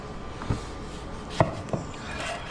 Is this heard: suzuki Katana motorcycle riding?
no